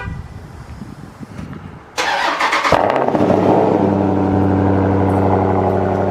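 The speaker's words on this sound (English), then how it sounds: "Get y'all this cold start that y'all want." A car engine cold-starts in a garage: quiet shuffling, then the starter catches at about two seconds and settles into a loud, steady, rumbling idle close by.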